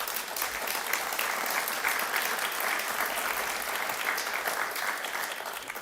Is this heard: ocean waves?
no